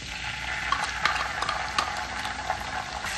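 Masala with ginger-garlic paste being stirred and sautéed in a pan for Saoji egg curry, a steady close sizzle with scraping stirs and a few soft clinks, no talk.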